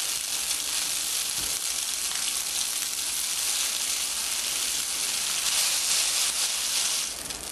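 Cooked pasta stir-fried in a pan for curry pasta, a loud steady hissing sizzle with faint scraping and stirring, continuous close to the pan.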